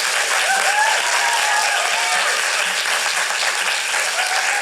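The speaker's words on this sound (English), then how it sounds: "let's give Simon and Kazifer and Phoebe, who are in the room, and Lucas and Casey a big round of applause" A festival audience at a young playwrights' cold reading gives a steady round of applause, dense, even clapping from a full room, loud and continuous without a break.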